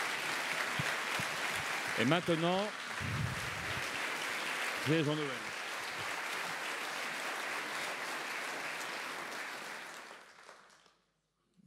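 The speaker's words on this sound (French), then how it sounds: "j'aimerais juste qu'on les applaudisse une fois" Sustained applause from an audience at a history lecture event, filling the room for about ten seconds before stopping, with someone speaking French briefly over it.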